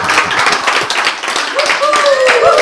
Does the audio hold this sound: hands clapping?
yes